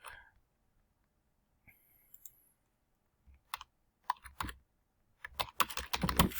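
Computer keyboard typing, close and fairly quiet: a few isolated key clicks early on, then denser bursts of rapid tapping toward the end, with near silence between.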